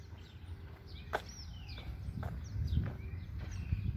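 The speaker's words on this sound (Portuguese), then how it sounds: "Olha os barulhos dos pássaros." Birds chirp in short, high calls scattered through an open exhibition park, fairly faint over a low outdoor rumble and occasional soft thuds, with no talking.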